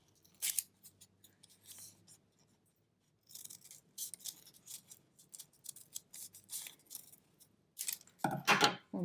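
Scissors snip through paper while cutting a Halloween ghost garland, a string of crisp, quiet clips with short pauses and a louder rustle near the end.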